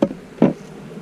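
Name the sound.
honeybees buzzing while making nucs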